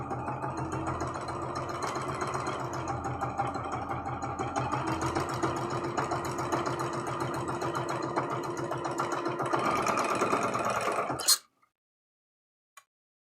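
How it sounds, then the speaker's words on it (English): A sewing machine runs steadily, stitching a seam on a rag quilt for about eleven seconds with a fine rapid needle rhythm, close and moderately loud, then stops abruptly into near silence. "And sew that seam."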